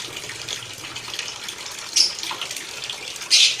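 Water gushes steadily from a hole in a pipe at a rose water still, a continuous close hiss with two brief louder splashes.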